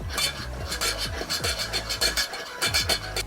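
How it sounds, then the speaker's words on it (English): A spoon stirring honey citron ginger tea in a cup, giving quick repeated scraping and rubbing strokes in a steady rhythm, close and fairly loud, with no voices. "And then all you need to do is kind of like mix it a little bit."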